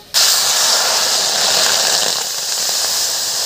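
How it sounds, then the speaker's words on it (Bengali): Water hits a hot wok just emptied of roasted sesame seeds, setting off a sudden loud hiss that surges up at once and holds as a steady, close rush of steam with no voices. "এবার কড়াইতে দেবো জল।"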